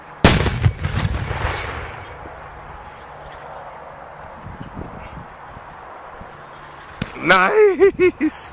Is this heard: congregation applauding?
no